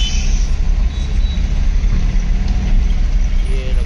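A Mahindra Supro mini truck's engine rumbles steadily and close as it pulls away in first gear at a weighbridge, with a continuous low drone and no clear change in rhythm.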